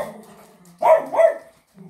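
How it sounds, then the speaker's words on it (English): Puppies give a couple of short, high yelps and barks, close by and fairly quiet, with soft whimpering sounds before and after. "These are puppies."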